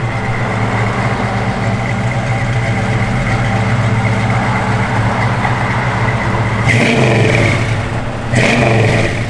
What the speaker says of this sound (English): Good sounding Flowmaster dual exhaust system